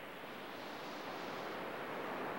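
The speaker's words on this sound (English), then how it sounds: "Sand is blowing over this way from the beach." Wind gusts across a sandy beach, blowing sand toward nearby smooth rocks; a steady, broad rushing hiss fills the short stretch with no break, with no talk heard.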